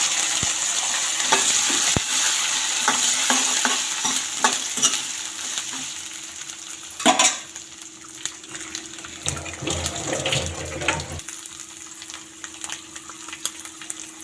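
Green peas frying in a pan for a spicy Maharashtrian green pea and tomato bhaji, a steady close sizzle with repeated scraping stirs and a brief louder clatter midway.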